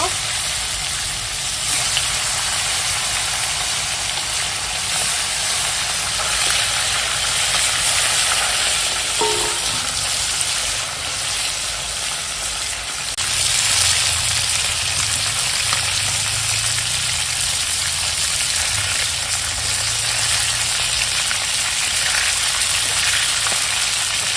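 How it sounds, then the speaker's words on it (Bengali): Fish fries in hot mustard oil in a wok over a lit stove, a steady loud sizzle and crackle running throughout, with brief faint stirring or shifting sounds partway through. "তেল গরম হয়ে গেছে এখন মাছ ভেজে নেবো"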